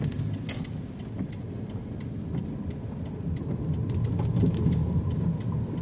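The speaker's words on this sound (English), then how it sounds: "The rain is slightly letting up a little bit." Steady rain falls around a vehicle during a storm, a broad even wash with scattered drops and a low road rumble, gradually growing slightly louder, with no voices.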